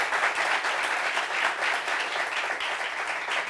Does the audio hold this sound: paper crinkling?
no